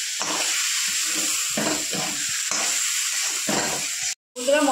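Spice paste for a rohu fish curry with small potatoes stirs and sizzles in a hot pan, steady frying hiss broken by repeated scraping stirs, close and loud, with a short silent gap near the end.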